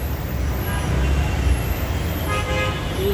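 Cars and buses move along a flooded city street with a constant loud traffic rumble, and a horn toots near the end.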